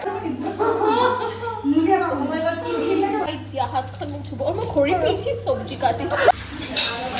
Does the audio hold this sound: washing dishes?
yes